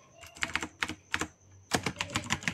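Clicky computer keyboard keys tapped in quick bursts while entering a command, a short pause in the middle, then a faster run of keystrokes close to the microphone.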